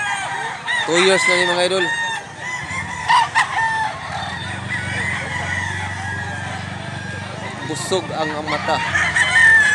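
Several roosters crow repeatedly among a flock of chickens for sale in Mantalungon, Cebu, with clucking in between and someone talking over the birds throughout.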